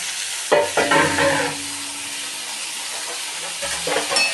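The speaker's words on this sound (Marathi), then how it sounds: "मिक्स करून घेऊया व्यवस्थित" Chopped fenugreek leaves with asafoetida are stirred in a kadhai over a low flame, with a soft, continuous sizzle and two bursts of scraping and clattering from the spoon against the pan.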